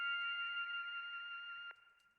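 Synth lead built in FL Studio with reverb applied, a sustained bright wavering tone with a warbling melody that holds steady, then cuts off and leaves a short fading reverb tail.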